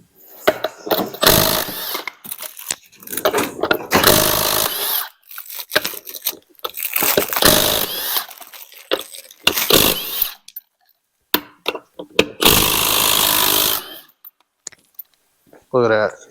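Loud bursts of a power impact tool spinning lug nuts off a 2002 Chevy Tracker wheel, several harsh buzzing runs of a second or two each, interspersed with people talking nearby.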